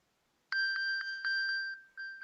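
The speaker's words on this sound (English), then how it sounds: "give us a little demo of what the Find My sounds like now" iPhone Find My alert on iOS 16, a bright two-tone chime pulsing in quick repeated beats, a short gap, then resuming, loud and close with no talk over it.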